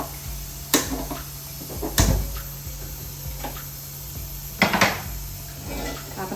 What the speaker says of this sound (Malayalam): നമുക്കൊരു കടായി എടുത്ത് വെക്കാം. ഗ്യാസ് ഓണാക്കാം.